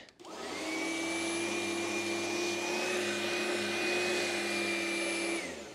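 An Oreck Magnesium LW1500RS upright vacuum cleaner runs steadily and loudly for several seconds, its motor whine holding even before cutting off at the end.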